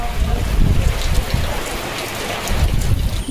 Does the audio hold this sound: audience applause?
no